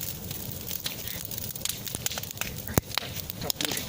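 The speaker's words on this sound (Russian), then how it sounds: "А сейчас это ветер дует, и вон как это огонь горит." An outdoor campfire burns in strong wind, with continuous roaring flame and rushing gusts broken by sharp, irregular crackles and pops close by.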